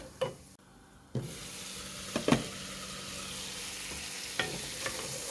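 Prawn curry fries with turmeric, chili and tomato in a pan, giving a low, steady sizzle broken by a few sharp clinks and scrapes of a utensil, with no talking.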